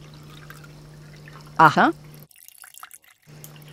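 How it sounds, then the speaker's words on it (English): Liquid is poured through a funnel into an empty bottle while making a homemade room spray. A soft, steady pour sits under a low hum, briefly interrupted by a short spoken interjection, then the sound cuts out before resuming. "Pour it in the bottle."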